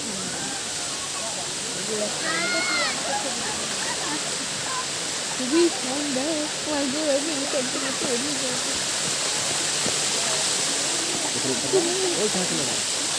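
Cold water rushes down a mountain stream in a steady, close hiss and slosh, with people talking over it now and then.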